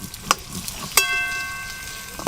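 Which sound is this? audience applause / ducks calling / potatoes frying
potatoes frying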